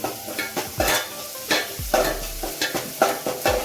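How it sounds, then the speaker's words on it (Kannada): Onions frying in hot oil in a pan while pasta is cooked at home, with a soft continuous sizzle broken by repeated scraping and stirring strokes of a utensil against the pan, close and moderately quiet. "ಚೆನ್ನಾಗಿ ಸ್ವಲ್ಪ ಈರುಳ್ಳಿ ಫ್ರೈ ಆಗಲಿ."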